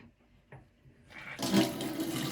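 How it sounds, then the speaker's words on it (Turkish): A tap opens with a faint click, and water begins to rush through it during a washing machine inlet filter cleaning, swelling quickly into a loud, steady, close gush, with no voices. "Ve musluğumu açıyorum"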